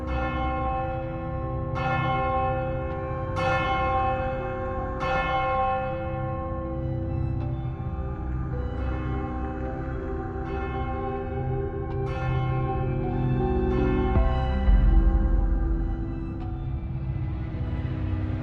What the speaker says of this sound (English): Distant church bells toll.